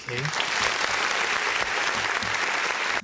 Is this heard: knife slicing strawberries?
no